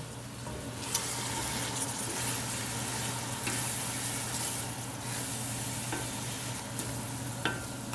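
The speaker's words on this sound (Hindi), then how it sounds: "थोड़ी देर भूनेंगे इसको। तो 1 से 2 मिनट मीडियम हीट पे भूनेंगे" Chicken sizzles steadily in a hot pan over medium heat with green chilies, red chili powder, whole garam masala and salt, and stirring scrapes in now and then, close and continuous with no talking.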